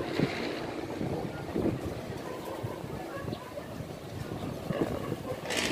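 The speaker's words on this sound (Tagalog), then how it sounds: "Lakas ng hangin." Strong wind buffets the microphone outdoors near a roof where birds gather, a constant rough rumbling gust noise with occasional faint bird calls and brief distant voices mixed in.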